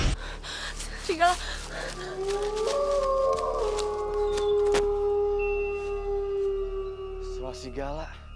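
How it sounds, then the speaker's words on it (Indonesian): Drawn-out howl of a werewolf in a TV drama, a long sustained wavering cry rising and holding over an eerie background score with soft breathy sounds, moderately loud. "Suara serigala."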